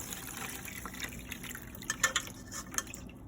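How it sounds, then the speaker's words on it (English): Herbal tea is poured through a wire strainer into a pan or bowl, giving a soft steady trickle and splashing with a few small clinks of metal near the end. "now we're going to strain this tea"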